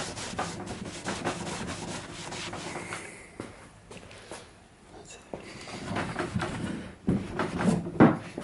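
A microfiber cloth rubs and buffs a wood finish in steady, close swishing strokes that ease off midway and then return louder, with a few light knocks.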